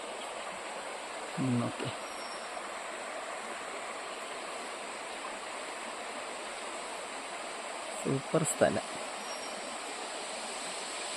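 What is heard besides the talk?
Thommankuthu waterfall, Thodupuzha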